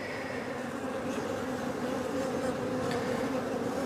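Honeybees buzz in a dense, continuous drone around an open hive during a hive inspection, steady and close with faint individual bees passing nearby, no voices.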